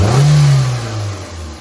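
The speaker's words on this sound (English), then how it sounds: "we are going to increase the engine's RPM and see what happens on our graph" A Toyota Corolla engine revs up sharply, then settles back as the revs fall, loud and close with no talk.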